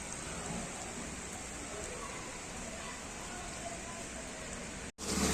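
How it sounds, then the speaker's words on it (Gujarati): Monsoon rain falls steadily over Jamnagar city, a constant soft hiss of drops on surfaces that stays even throughout and breaks off abruptly near the end. "આવી ગયું આપણું ચોમાસું, વરસાદ ચાલુ છે અત્યારે જામનગર સિટીમાં"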